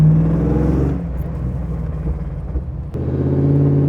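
A Land Rover Defender 110 with a swapped LS3 V8 engine rumbles with a low, steady burble while driving, dipping briefly then rising again, with no voices over it.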